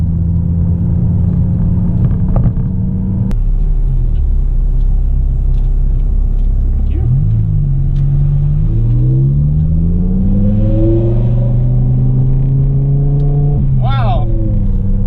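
An E85-tuned V10 BMW M5 roars at a drag strip, a loud, sustained engine drone that rises in pitch through several gear pulls, with a voice speaking under the engine noise.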